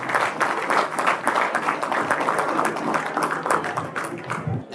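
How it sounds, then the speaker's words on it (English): Audience applause at a comic convention panel, a dense steady wash of many hands clapping for several seconds, moderately loud and close, with some voices mixed in before it tapers at the end. "one more big round of applause"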